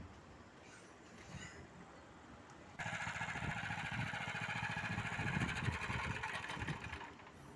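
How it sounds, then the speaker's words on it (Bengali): Mini power tiller engine in a field, a faint background hum that jumps to a loud, steady close-up drone with a fast rhythmic chug from about three seconds in, no talking. "এই যে সেই মিনি পাওয়ার টিলার"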